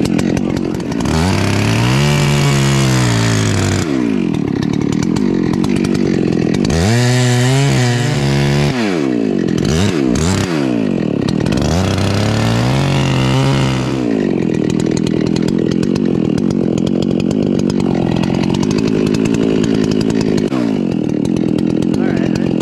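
Redbeard chainsaw fitted with a Redbeard modified muffler, not ported, revving loud and close as it bites through wood, with engine pitch rising and dropping between cuts and sustained cutting passages.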